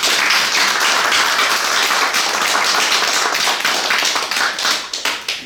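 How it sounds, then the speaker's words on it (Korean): A crowd at a Rotary club meeting claps for the club president, a dense burst of applause that holds steady, then thins into scattered individual claps as it fades out. "우리 회장님을 위해서 박수 한번."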